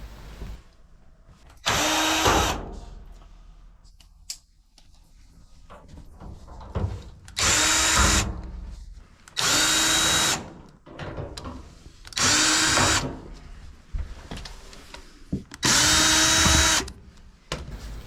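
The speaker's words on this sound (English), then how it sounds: "Next, remove the 4 bulkhead screws and the 1 on the blower housing." A power drill backs out the bulkhead screws on a clothes dryer, giving five or six short, loud whirring bursts of a couple of seconds each, separated by quieter handling noises.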